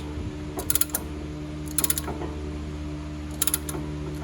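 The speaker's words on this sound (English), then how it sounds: "Brought this nice piston compressor today. Like, it's working great." A brake caliper piston compressor tool being worked on a 2012 Honda Pilot gives three short bursts of rapid ratcheting clicks, spaced about a second apart, over a steady low hum, with no talking.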